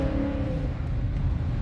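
A 2019 Dodge Challenger 1320 with a Hellcat airbox pulls away, its low engine rumble steady and continuous with a fading tonal whine early on, heard alone at moderate level.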